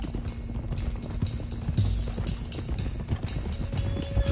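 Horse hooves clip-clop in a steady galloping rhythm in Red Dead Redemption 2 as several horses are driven along a trail, loud and close, with a faint whinny and no talk.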